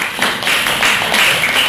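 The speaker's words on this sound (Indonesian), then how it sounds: "baik, tepuk tangan." Classroom applause at the end of a student presentation on environmental impacts of water and soil quality, a short burst of many hands clapping together, loud and dense, with no pause.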